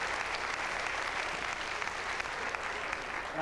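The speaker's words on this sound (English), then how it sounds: "You can give these folks a round of applause." A theater audience gives dense, steady applause for hypnosis demonstration volunteers, a continuous wash of many hands clapping at moderate distance.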